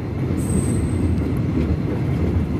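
Heard from inside a carriage, the Siliguri–Balurghat Intercity Express rolls over changing tracks near Eklakhi Junction in a continuous loud rumble, with a thin high wheel squeal drawing out near the beginning.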